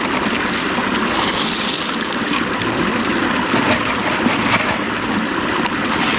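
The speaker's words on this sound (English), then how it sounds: "And I'll start pouring this gravel back in here to kind of backfill it." Gravel poured from a scooper into a backyard pond to backfill around plant roots, a steady close rushing wash of stones and water with no pause and no talk.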